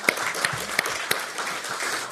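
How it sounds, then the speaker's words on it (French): Audience applause after a talk on indoor and outdoor acoustics, a modest round of clapping with a few sharp, distinct claps early on, sustained at moderate loudness. "On va vous applaudir."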